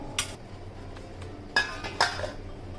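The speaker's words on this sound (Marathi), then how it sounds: "आता आपण यावर झाकण ठेवूयात" A lid goes onto a pot of mango sheera made with rava and sugar, giving three sharp metallic clinks at close range with quiet pauses between them.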